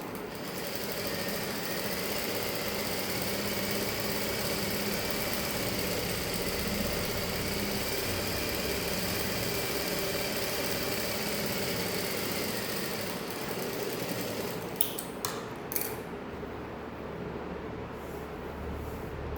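A sewing machine runs steadily while stitching a saree blouse, a continuous mechanical whir lasting most of the time before stopping near the end with a few light clicks and handling noises.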